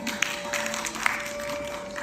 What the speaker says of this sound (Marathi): एकदा जोरदार टाळ्यांचा कडकडाट